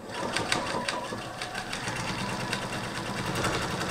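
A domestic sewing machine runs a straight seam through folded fabric scraps, a steady rapid mechanical whirr with a fine ticking needle rhythm, close and alone.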